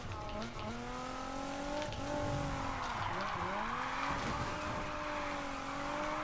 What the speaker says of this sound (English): we're starting this one with a drift